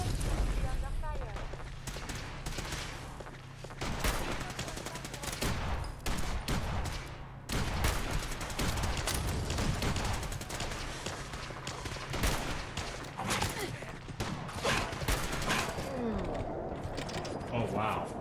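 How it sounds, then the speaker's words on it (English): Dense, sustained gunfire in modded Fallout 4, with bursts and single shots cracking almost constantly over a low rumble, and talk underneath. "We're under fire."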